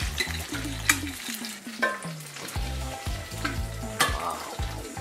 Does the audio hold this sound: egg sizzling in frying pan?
yes